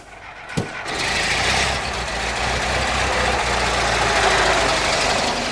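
A 1921 Ford Model T touring car engine starts with a sharp catch and then runs loud and close, holding a steady, rough, knocking idle with a low rumble throughout.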